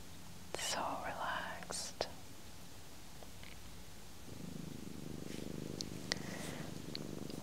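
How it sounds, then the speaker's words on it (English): A relaxed cat purrs softly during a gentle massage on a farm, a low steady rumble picked up close by the microphone, with quiet soft-spoken talk and light rustling over it. "he's really purring right now"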